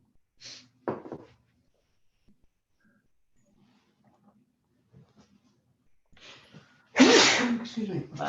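A single sharp sneeze rings out during a city council meeting, followed by quiet room noise and then a louder burst of voices near the end.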